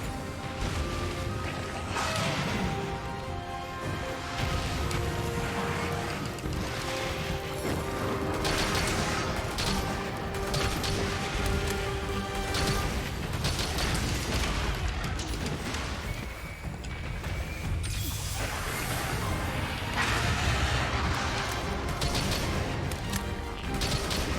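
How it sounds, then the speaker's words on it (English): Rapid gunfire from aircraft combat in the video game Crimson Skies, a dense, continuous barrage of shots and crashes layered over game music and engine noise, loud and unbroken throughout. "How about a little bit more rapid fire?"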